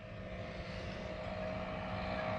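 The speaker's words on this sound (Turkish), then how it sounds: "Drone ta yukarıda ufacık bir nokta oldu." A drone flies high overhead above a Swiss landscape, a faint, steady propeller whine holding one even tone throughout, heard alone without voices.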